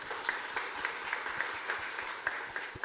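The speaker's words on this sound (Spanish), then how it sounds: "fuerte aplauso para su secretaria," Audience applause at a live parish Mass, a steady patter of clapping hands filling the church at moderate level with faint background murmur.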